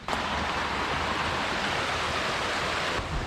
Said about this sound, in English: there is a little stream, not a big one